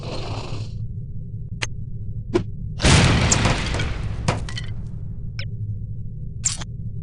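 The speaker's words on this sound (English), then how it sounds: "These relatively inconspicuous-looking lipsticks are actually powerful explosive devices that detonate on impact." A lipstick grenade from the spy game No One Lives Forever detonates on impact: one loud, broad explosive burst near the middle, surrounded by faint ticks and clicks over a steady low hum.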